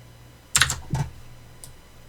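A couple of quick keystrokes on a computer keyboard, including an Enter press, close and clear against a quiet room with a faint low hum.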